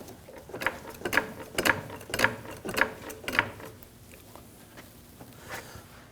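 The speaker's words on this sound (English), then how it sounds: "I'm going to jack this up, but I'm going to watch the motor come up and meet the mount" Jack ratcheting under a 2010-2019 Ford Taurus 3.5L V6, lifting the engine up to its motor mount: about six evenly spaced clicking pumps, close and mechanical, then quieter, with no talk.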